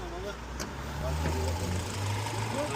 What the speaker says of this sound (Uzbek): Motorlarning ishlashi.